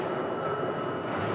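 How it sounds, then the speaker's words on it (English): Train rattling along the tracks, a steady dense rumble and clatter heard as if from inside a carriage, continuous and even with no voices. "the train rattled along the tracks"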